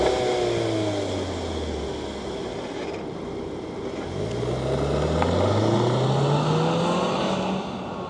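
A 2025 Volkswagen Tiguan SEL R-Line compact SUV accelerates hard, its engine note rising and falling through gear changes with a steady loud drone and road noise throughout, no voices.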